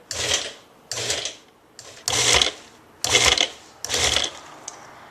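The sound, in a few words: food processor pulsing basil leaves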